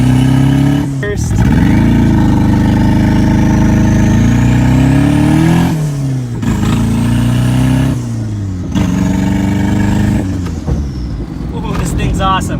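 A big-turbo Mazda Miata revs and pulls through several gears on a drive, the engine note rising in long sweeps with short lifts between shifts, loud and close from inside the car, with occasional talk.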